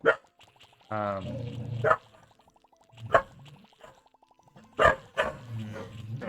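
Dogs in the Little Monster video game bark in a few sharp separate yaps, loud and close, with longer whining tones between the barks.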